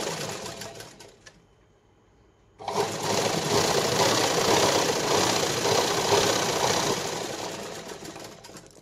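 An electric sewing machine stitches a fabric strip onto a katori blouse at close range. A brief whir comes first, then a pause, then a long steady run of rapid, whirring stitching that eases off at the end.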